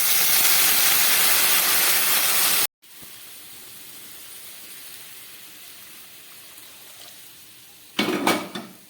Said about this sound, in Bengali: একদম মশলা কষে গেছে, এবার দিয়ে দিচ্ছি উষ্ণ গরম জল।